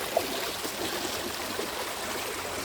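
Overflowing lake water streams out beside a park during the rainy season, a steady, even rush of running water with no voices, continuous and moderately near throughout.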